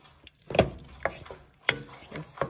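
Chicken and asparagus stir fry tossed in a pan with a garlic mixture, giving a few separate scraping, clattering stirs with quiet pauses between them and faint sizzling underneath.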